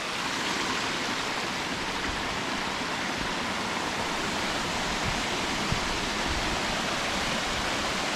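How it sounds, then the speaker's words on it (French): A small waterfall in Combe Laval in the Vercors, a steady broadband rush of falling water that stays even and fairly close from start to finish, with no voices. "Une petite cascade comme ça, là, sympathique."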